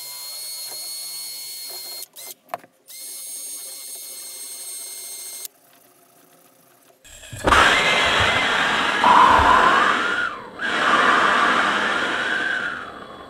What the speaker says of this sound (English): We're gonna try a drill.